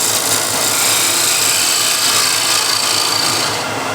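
A scraper cuts the inside of a wooden bowl spinning on a lathe, producing a loud, continuous, even rasping hiss that holds steady throughout and eases slightly at the end.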